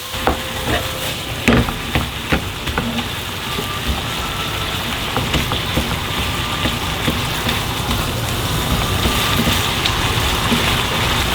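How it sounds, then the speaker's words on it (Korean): Pre-seasoned beef stir-fried in a pot without oil, a dense steady sizzle with frequent scraping and clacking stirs throughout, close and loud with no talking. "미리 양념해놓은 음식을 볶겠습니다. 저는 기름을 넣지 않습니다."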